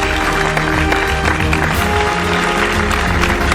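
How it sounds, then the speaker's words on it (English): An audience gives sustained applause for a football sportsperson receiving an excellence award at a ceremony, dense and even clapping close by with a faint background hum. "Everyone, please give her a round of applause."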